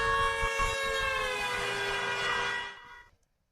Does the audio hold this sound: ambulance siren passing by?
yes